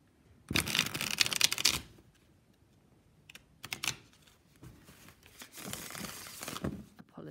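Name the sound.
riffle shuffling tarot cards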